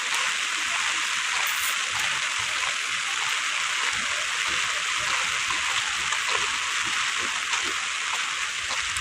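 Steady, continuous rain falls all day, a dense even hiss of drops that stays constant throughout with no voices.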